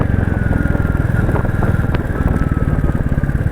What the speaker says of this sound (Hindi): अभी गाड़ी मेरी दूसरे गियर में है और दूसरे गियर में भी अगर मैं थ्रॉटल करता हूँ